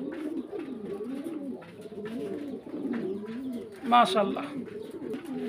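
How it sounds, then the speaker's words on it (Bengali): Pigeons at a breeding farm coo in repeated soft, rolling phrases close by, under someone talking, with a brief flutter partway through. "কবুতর"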